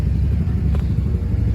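An old two-stroke motorcycle engine idles nearby with a dense, low, throbbing rumble that stays steady and fairly loud throughout.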